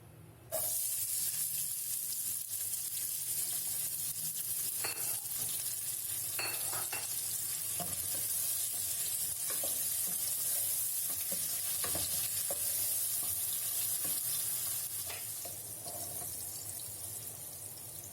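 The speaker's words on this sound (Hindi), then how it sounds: "हल्का गर्म हो तो प्याज डालूंगी" Onions frying in hot oil hiss continuously, with occasional scrapes and clinks of stirring in the pan.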